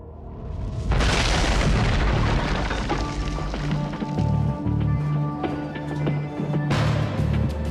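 A colossal explosion from an asteroid striking Earth, a deep rumbling boom that bursts in loudly and rolls on as a sustained roar, with a second surge near the end.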